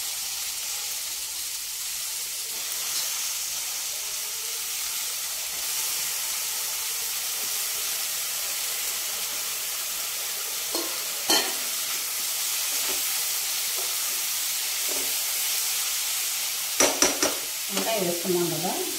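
Eggplant frying in a pan with garlic gives a steady, soft sizzle and hiss that runs throughout, with a few faint clinks and stirring scrapes near the end.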